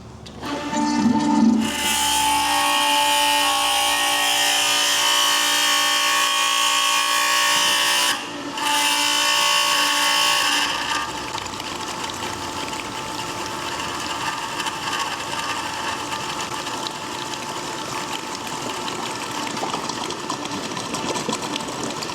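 A self-priming pump transferring diesel fuel into 5-gallon containers runs as a loud, steady mechanical whine and hum, briefly dropping out near the middle, then continuing as a rougher, noisier flow.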